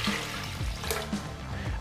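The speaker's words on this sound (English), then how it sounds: "So start by putting 1 pint of water into your blender" Water poured into a kitchen blender jug, a close, continuous gurgling pour with sloshing and uneven splashes, no speech over it.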